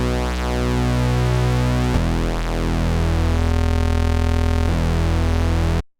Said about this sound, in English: it gives you that really awesome phasing tone that you hear on a lot of square wave basses